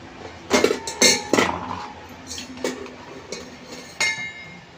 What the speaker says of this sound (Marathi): इथली भांडी लावून घेते आधी सगळी